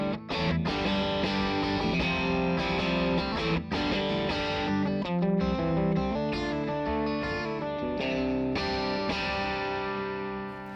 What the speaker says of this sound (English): The first one is called AC, and that's the classic chime and crunch of VOX's AC30.